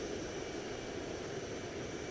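A Mirage F1C jet in War Thunder flying low, giving a steady, dense roar of jet engine and wind rush that holds unbroken throughout.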